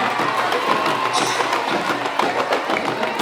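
An audience at a school Islamic education festival applauds and cheers the West Java contingent, a dense, continuous wash of clapping and voices.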